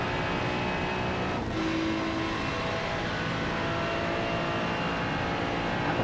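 A GT3 race car engine at Spa-Francorchamps in the iRacing sim, a steady loud mechanical drone with a brief gear-shift dip early on, alone without talk.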